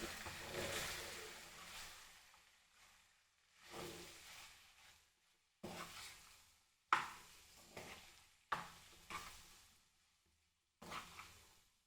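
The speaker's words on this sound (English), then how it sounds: "Mix this all very nicely." Sabudana khichdi is stirred in a pan in several separate bursts of scraping and soft frying hiss, each fading before the next, quiet and close, with near silence between strokes and no talking.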